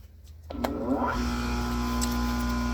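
An Oregon 520 chain grinder switches on and its grinding wheel spins up, a rising motor whine that settles into a steady, loud hum after a quiet start, with no talking.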